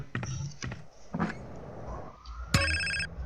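A cell phone rings in the game GTA San Andreas, a short electronic ringtone burst cutting in near the end after scattered thumps and faint game sounds.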